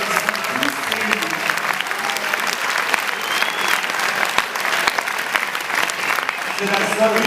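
An audience applauds at a film premiere in a Paris cinema, dense sustained clapping filling the room for several seconds, with voices speaking faintly beneath it.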